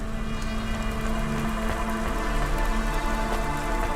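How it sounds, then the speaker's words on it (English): Steady alkali rain in the Cloudpunk game drums and patters without a break, under a low hum and faint tonal city ambience. "Warning, alkali rain in this region will corrode hobas, clothes, and exposed skin"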